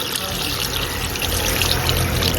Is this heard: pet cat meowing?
no